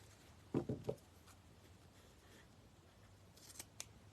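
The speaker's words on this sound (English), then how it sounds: "I'm going to go ahead and cut the other tails off where I tied the bow together" Scissors snip the fabric ribbon tails off a tied bow during a decoupage craft, making a quick cluster of three close cuts followed by a couple of faint clicks in a quiet room.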